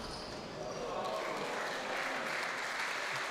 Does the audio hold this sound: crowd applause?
yes